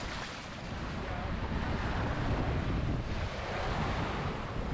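Waves and strong wind aboard a sport sailboat racing overnight at sea in freezing conditions, a dense roaring wash of water and buffeting wind noise that swells steadily through the moment.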